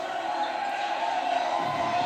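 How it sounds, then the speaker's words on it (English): Wrestling arena crowd at a match roaring and cheering after a triple dive to the arena floor, a dense, loud, sustained wash of crowd noise. "the crowd letting him know they love it"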